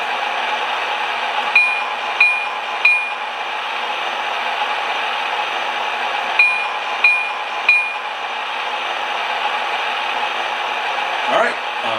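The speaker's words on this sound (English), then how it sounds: "And here's the bell." K-Line by Lionel Chicago North Shore & Milwaukee interurban toy train ringing its electronic bell, two sets of three quick, bright dings over a faint motor whir.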